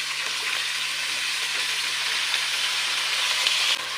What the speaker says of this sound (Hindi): अब हम अपनी सब्ज़ी को करेंगे फ्राई।